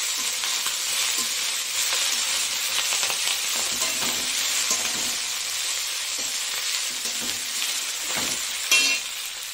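Fenugreek leaves fry in oil with whole garlic, giving a loud, continuous close-up sizzle broken by scraping stir strokes, with one sharper clatter near the end.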